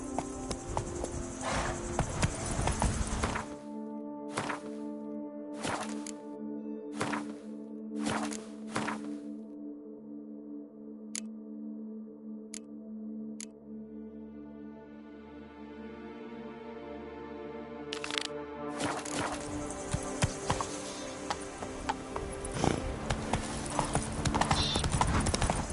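A horse in the video game Witcher 3 Blood and Wine clip-clops along in steady hoofbeats, then breaks into a faster, louder galloping rhythm with clattering thuds and some background ambience, no talking.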